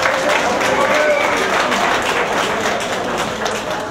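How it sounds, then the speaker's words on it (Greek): Applause from an audience at a large Cretan evening event in Agioi Theodoroi, a steady broadband clatter of many hands lasting throughout, with some crowd noise and voices mixed in. "Ένα θερμό χειροκρότημα για τον άνθρωπο με τη μεγάλη καρδιά"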